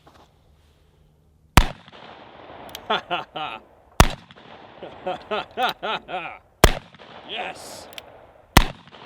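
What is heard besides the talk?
Desert Eagle pistol shots, .50 Action Express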